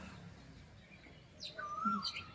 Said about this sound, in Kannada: ಧ್ವನಿ ಕೇಳ್ಕೊಳ್ಳಿ ನೀವು, ನಿಮಗೂ ಇಷ್ಟ ಆಗ್ತದಲ್ಲ ಕೋಗಿಲೆ ಧ್ವನಿ